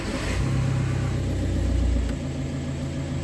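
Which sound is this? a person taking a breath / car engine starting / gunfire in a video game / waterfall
car engine starting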